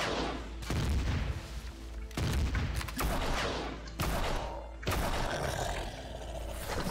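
Heavy gunfire and booming blasts in the sci-fi video game Empyrion during an attack on a Zirax turret base, loud sustained roaring bursts broken by short gaps, with no talk over them.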